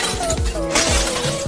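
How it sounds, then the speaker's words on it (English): A brick smashes into a Maybach car, a sharp shattering crash of breaking glass followed by clinking debris, loud and close against a busy background. "he smashed her Maybach with a brick."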